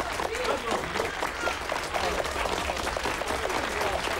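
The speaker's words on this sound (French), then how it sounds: "je vous demande de l'applaudir." Audience applause in a French-dubbed 1990 film scene, steady dense clapping lasting throughout with a murmur of crowd voices and talk mixed in.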